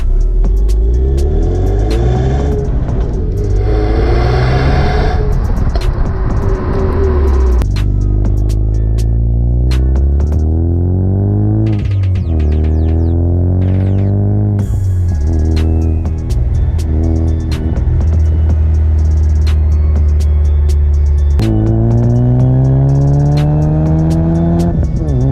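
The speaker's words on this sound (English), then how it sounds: "So I bought MBRP performance exhaust, which I installed, and they are pretty nice." A 2016 Ford Mustang EcoBoost with an MBRP performance exhaust revs repeatedly with a deep, throaty sound, pitch sweeping up and down through several loud rev cycles, close and continuous.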